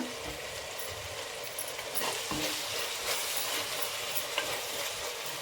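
Curry leaves fry in hot oil for an egg curry, giving a steady, fairly quiet sizzle with light stirring scrapes and small crackles throughout.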